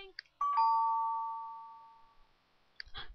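A doorbell rings in The Sims 3 game: one clear, loud electronic ding-dong chime that rings on and slowly fades over about two seconds, with a few faint clicks before and after.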